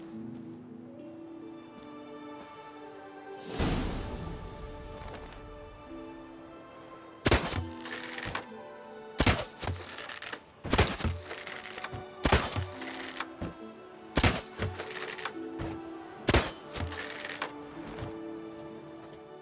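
Shots hitting targets in a video game shooting contest, a series of sharp wooden thunks and cracks spaced a second or two apart after an earlier single hit, over a faint musical backdrop.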